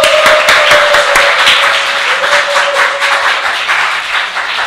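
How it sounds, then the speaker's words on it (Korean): A Korean church congregation at a Sunday service claps in welcome for two new members, a loud, close burst of quick overlapping hand claps with some distinct sharp slaps, thinning slightly toward the end. "같이 한번 박수로 환영합시다"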